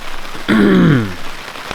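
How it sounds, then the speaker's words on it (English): Steady rain patters on a tent during a backcountry spring bear hunt in Idaho, a continuous soft hiss throughout, briefly overlaid by a low, drawn-out vocal groan midway. "and then it just rain started coming down, so Eric and I are just hanging out in the t"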